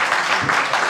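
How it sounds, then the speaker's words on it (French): A game-show audience breaks into brief applause after a scoring announcement, a dense wash of clapping from a crowd, steady and fairly loud for a moment. "Ça s'applaudit."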